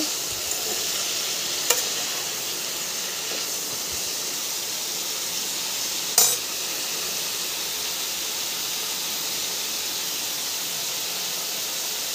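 Bottle gourd greens frying and being stirred in a pan with salt, a steady, close hiss of sizzling oil with two sharp clicks of the utensil against the pan.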